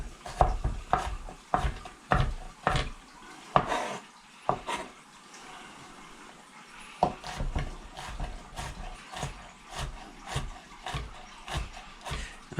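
Lodge cast iron pan on a stove while fajitas cook: repeated scraping and knocking of a utensil against the pan in an irregular rhythm, close and moderately loud.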